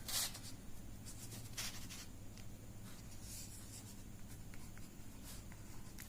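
Marker or chalk writing on a board during a maths class on real numbers, with several short scratchy strokes at the start and again near the middle over a steady low room hum.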